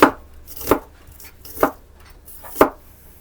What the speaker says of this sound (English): So this guy is just going to get all sliced up into